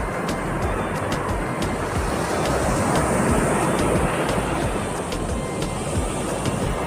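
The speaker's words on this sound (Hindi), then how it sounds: "आप समुद्र की जो आवाज़ है वो सुन पा रहे होंगे।" Sea waves break on a beach in a loud, continuous rumbling roar, the surf close by and mixed with wind buffeting the microphone.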